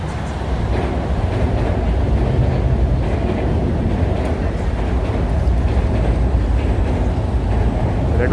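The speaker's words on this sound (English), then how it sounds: "And there goes the Long Island Railroad." Long Island Rail Road train passing through the Forest Hills area of Queens, New York, a steady broad rumble holding at close range for the whole stretch with no talk over it.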